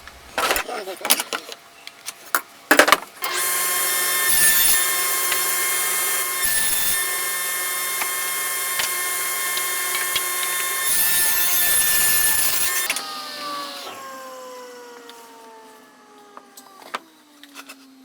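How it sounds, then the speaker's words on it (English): A power saw ripping wooden boards to width for shelves: a few sharp knocks, then a loud sustained high whine cutting through wood for about ten seconds, briefly dipping, before the blade spins down. "Now here I will cut these boards to width to fit the widths of the boards I need for doing the shelves"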